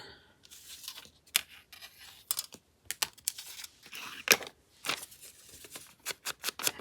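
Paper being ripped by hand for an old envelope booklet, a series of sharp tearing bursts and crinkles of varying length, close and fairly quiet, with no voices.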